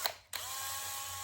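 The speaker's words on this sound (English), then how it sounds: "We're going to hit this with a spinning flail of death." A power drill spins a stainless steel wire flail for hidden rust removal, a brief tap then a steady, fairly loud whirring whine that holds for about a second.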